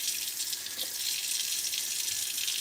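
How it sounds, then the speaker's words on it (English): Cold water runs steadily from a kitchen tap into a container, a constant close hiss of flowing water with no talking. "fill this up with some cold water"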